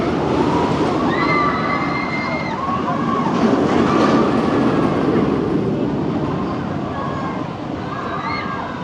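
A theme park ride train at Parque Warner rumbles past steadily with a continuous roar, high squealing tones rising and falling above it, and voices faintly mixed in.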